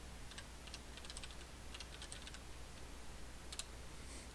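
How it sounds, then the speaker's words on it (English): Quiet typing on a computer keyboard: scattered light key clicks in short bursts, some clustered and some single, over a low steady room hum with no speech. "If I just type in here for starters"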